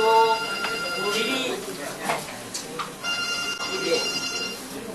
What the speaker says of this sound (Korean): 전화 좀 꺼주시죠.